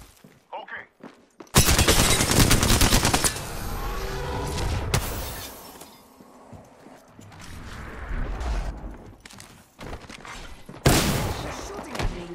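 An enemy's gunfire in a battle royale video game, with bursts of rapid automatic shots, loud and close at first, then quieter and intermittent, another loud volley near the end, and voices talking between.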